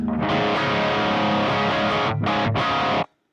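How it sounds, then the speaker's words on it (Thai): A loud electric guitar on an amp's distortion channel plays sustained, dense chords, briefly cutting out twice near the end before stopping abruptly. "อันนี้ยังอยู่ในชแนลเสียงแตกอยู่นะฮะอ่ะลองเปิดเวอร์ลุ่มมา"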